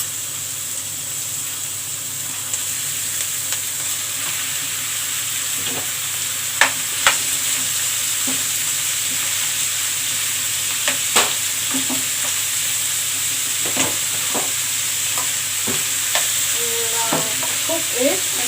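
Ground beef browning in a pan for macaroni bechamel, a steady soft sizzle with occasional scraping and clicking stirs of a utensil, close and continuous with no voices.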